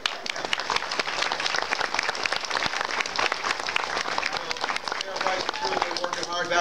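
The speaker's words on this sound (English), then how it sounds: "give her a big pat on the back and a big round of applause" Audience applause fills the room at a school book fair event, steady dense clapping from a crowd sustained throughout, with a brief voice near the end.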